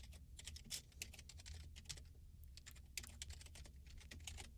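Fingers type on a computer keyboard while entering Visual Basic code in Excel, giving rapid, steady clicking keystrokes with brief pauses, faint and close, with no voices.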